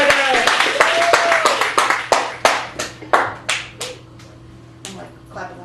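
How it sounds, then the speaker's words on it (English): A small group claps at a poetry open mic in a Chicago cafe, fast and dense at first, then thinning into scattered individual claps that fade out, with a voice briefly over the start. "Give it up for Joffrey Stewart."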